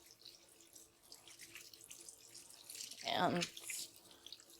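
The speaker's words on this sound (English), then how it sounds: "you want to make sure that you really do get your hands washed extra well" Running tap water at a sink as hands are washed with dish soap after handling raw turkey, a steady faint stream that swells into a louder gush near the end, with a brief word spoken.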